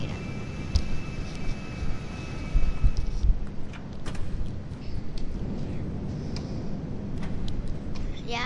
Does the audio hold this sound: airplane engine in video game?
yes